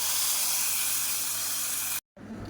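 Vadagam tempering spluttering in hot oil for keerai kootu, a dense steady sizzling hiss that cuts off briefly near the end before resuming, with no talk.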